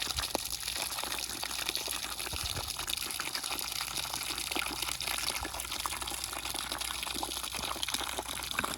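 Water rushing into an Intex above-ground pool through an opened valve, a steady gushing splash and hiss that continues evenly, close by, with no voices.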